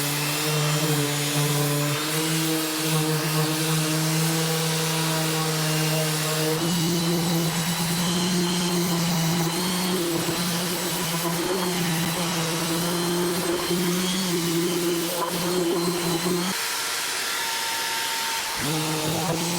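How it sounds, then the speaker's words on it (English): A steady, loud power-sander drone on wood with 120 grit and a vacuum extractor hum running throughout, shifting pitch partway through and briefly dipping near the end. "start with some 120 grit, get the vacuum on the job so we're not too dusty"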